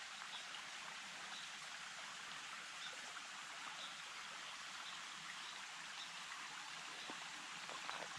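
A small creek flows through Capital State Forest in Washington, giving an even, continuous wash of running water from start to finish with no voices.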